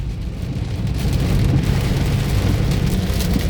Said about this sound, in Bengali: দর্শকবৃন্দ, বৃষ্টি হচ্ছে, দারুণ বৃষ্টি হচ্ছে